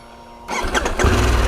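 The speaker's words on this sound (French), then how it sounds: "Ah, ça y est, ça démarre." A 2023 Harley-Davidson Pan America motorcycle engine cranks and catches after a quiet moment, rising into a loud, close, steady rumbling idle with no talk over it.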